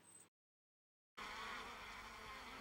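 Bees buzzing in a teeming mass, a dense steady drone that starts briefly, drops out into a gap of silence, then returns loud and continuous.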